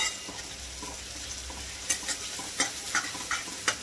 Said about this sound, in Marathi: परतून घेऊया तेलामध्ये